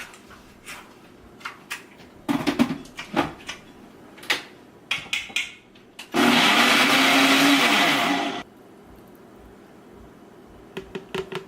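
A kitchen blender whirs loud and steady for about two seconds, blending almond milk and peanut butter, set between scattered clicks and knocks of lids and counter handling.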